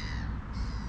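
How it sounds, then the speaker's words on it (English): A single crow gives a harsh, loud, close caw lasting about a second, standing alone without other sounds, at an evening bird feeding spot. "We have crows around."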